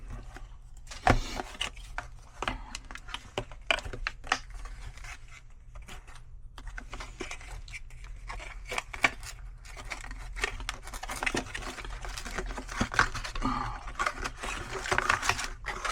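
A Pokémon Prismatic Evolutions booster box being ripped open: close crinkling, tearing and scraping of cardboard and plastic in irregular bursts, with sharp snaps throughout and no talk.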